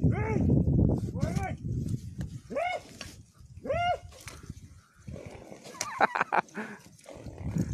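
Several barks and yelps from dogs ring out outdoors in a run of separate calls with pauses between them, some loud and close, others thinner, with rough background noise and a voice mixed in.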